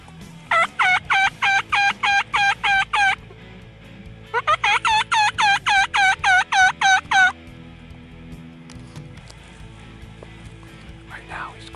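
Wild turkey tom gobbling in a field, two loud bursts of rapid repeated gobbles close together, then quieter outdoor background with faint talk.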